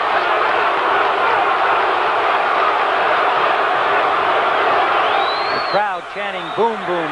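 A partisan crowd of nearly 12,000 at a championship boxing match roars in a steady, loud wash of cheering and chanting for several seconds, ending with a burst of whoops and shouts.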